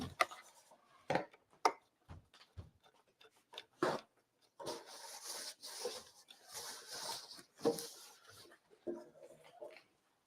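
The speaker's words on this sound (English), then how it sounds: "I'm just going to run my wax brush around the whole thing" Wax brush rubbing clear wax over painted thrifted home decor furniture, giving soft bristly scrubbing strokes in an irregular rhythm, with quick brushing bursts and longer rubbing passes, close and quiet.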